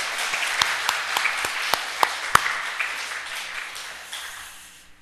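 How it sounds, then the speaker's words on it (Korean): A church congregation at a morning worship service breaks into warm applause, many hands clapping together with a few louder nearby claps standing out before the sound gradually fades. "박수 한번 쳐드릴까요?"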